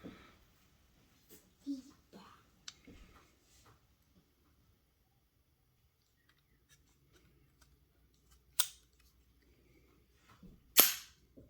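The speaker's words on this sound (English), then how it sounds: "I'll test the trigger out for you guys. It is safe. It is empty." An empty Sugar Weasel blaster is dry-fired, with a couple of sharp, loud clicks late on, preceded by softer handling taps and someone speaking quietly near the start.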